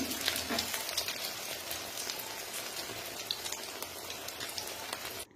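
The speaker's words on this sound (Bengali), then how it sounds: "এক পিঠ হয়ে গেছে, আর এক পিঠ আমি উল্টে দিচ্ছি।" Steady close sizzle of pumpkin leaf fritters frying in oil after being turned, a dense rain-like crackle with scattered bright pops that runs on and cuts off abruptly at the end.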